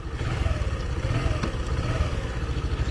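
Suzuki GSX125 motorcycle running while gears are shifted, a steady mid-pitched engine chug with a rhythmic pulse and one brief clunk, loud and close, with no talking.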